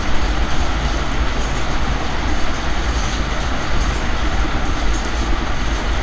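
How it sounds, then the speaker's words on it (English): Train sounds from the Subway Surfers mobile game, played on a laptop, form a dense, continuous rumbling rail roar with a steady clatter and no breaks. "Now I'm playing Subway Surfers."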